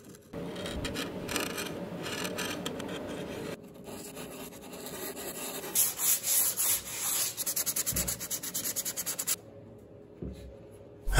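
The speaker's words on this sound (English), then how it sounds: "the edges were cut back and sanded smooth" Wooden edges being sanded smooth by hand on a model railway coffee table project, a close scratchy back-and-forth rubbing in steady rhythmic strokes.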